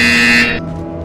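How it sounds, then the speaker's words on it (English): A harsh electronic buzzer in Portal Stories: VR sounds once, loud and close, cutting off abruptly after about half a second and leaving a fading hum. "You will hear a buzzer."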